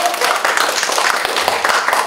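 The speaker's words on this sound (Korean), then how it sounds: "박수 한번 크게 주시면" Crowd applause and clapping from an audience at a book concert, a dense steady patter filling the whole stretch at fairly loud level with no talking over it.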